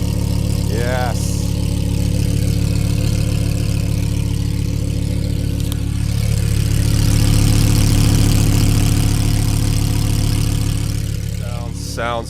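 A large V10 engine idles steadily with a deep, even rumble throughout, and a couple of brief vocal sounds briefly rise over it.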